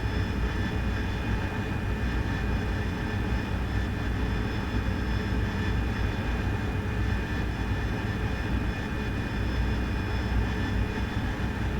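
Steady, continuous jet engine roar from an AV-8B Harrier at high thrust in low-altitude level flight in the DCS World flight simulator, with engine tones humming throughout and no talk.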